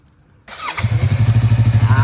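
A Yamaha R3 motorcycle starts up close by: a brief starter whir, then the engine catches and settles into a loud, evenly pulsing idle.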